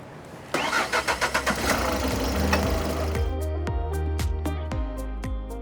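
A former diesel car converted to run on hydrogen cranks over with several rapid starter pulses, catches and settles into a steady idle, loud and close with rhythmic engine knocks.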